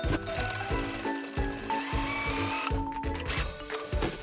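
A sewing machine stitches a 1.5 cm seam on a bag remade from a Nagoya obi, its motor running in steady bursts with short pauses between runs of stitching, close and clear with no talk.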